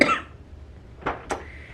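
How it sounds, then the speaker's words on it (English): A woman gives two short, dry coughs close by, separated by a brief pause in an otherwise quiet room. "I did develop a little bit of a cough over the weekend"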